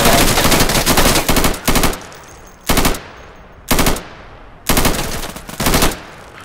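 Gunfire in the tactical shooter Insurgency: loud bursts of automatic fire, with several sharp volleys separated by brief pauses and a dense rattle at the start.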